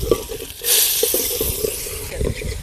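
Ginger-garlic paste and onions are tipped into a hot pan already holding mustard seeds and curry leaves, and a sharp sizzle surges up and keeps hissing, with knocks of a spoon stirring through it.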